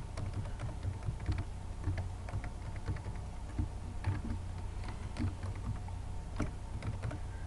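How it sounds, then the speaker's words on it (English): An email address is typed on a computer keyboard: a steady run of quiet, close key clicks in an uneven rhythm, with no voices over it. "the first thing we do is type in our email address that we want to use."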